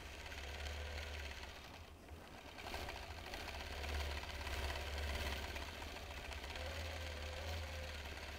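A sewing machine stitches slowly through a quilt over pins, a steady close mechanical whir with a low motor hum that briefly eases, then runs on evenly.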